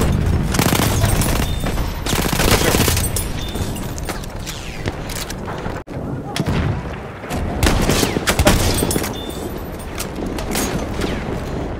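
Battlefield 1 video game combat with a thrown bomb: dense, continuous gunfire and machine-gun bursts mixed with booming explosions, loud and sustained throughout with hardly any pause.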